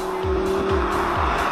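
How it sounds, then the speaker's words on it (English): An Audi R8 V10 fitted with an Akrapovic exhaust drones steadily nearby, a continuous engine tone with rhythmic low pulses swelling about every half second, no voices over it. "this car happens to be equipped with the Akrapovic exhaust, which, well, as you can hear in the background, sounds pretty fucking incredible"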